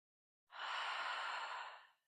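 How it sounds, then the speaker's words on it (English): A single long, steady exhale through the nose during alternate nostril breathing in a yin yoga session, soft and close, lasting about a second and a half in otherwise quiet surroundings. "that alternate nostril breathing there really helps to balance out the left and right side of your body"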